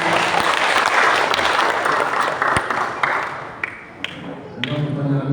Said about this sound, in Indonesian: Tepuk tangan untuk masyarakat.